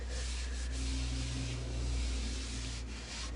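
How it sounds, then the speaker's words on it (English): A tack cloth rubs across a sanded oak board, giving a steady, soft close-up swishing and scrubbing that keeps going for the whole stretch, with no voices over it. "this is just a tack cloth, and this picks up any of the sawdust that you missed"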